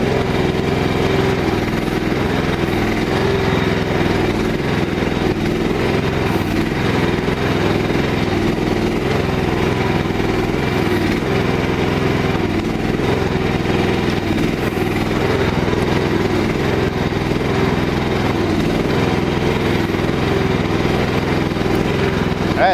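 The engine of a Mygale 500 micro excavator runs at a steady, continuous drone nearby, with an unbroken mechanical hum and no break or talking throughout.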